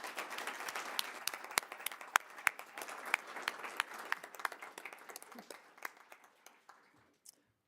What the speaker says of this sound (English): could we just give one round of applause for all three of our new board members?